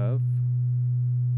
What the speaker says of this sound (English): So that's a nice sine wave coming out of